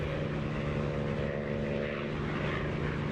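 Propeller aircraft engine drone mixed with rushing wind noise in the DCS flight simulator, a steady, continuous hum with an even roar throughout and no talking.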